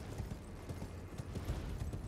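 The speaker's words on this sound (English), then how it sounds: "Use your horse." Horse hooves clip-clop in the Elden Ring video game, a quiet, steady run of soft thuds under low background game noise.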